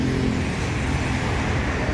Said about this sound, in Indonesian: Mengandalkan bus-bus lintas yang masuk ke loket.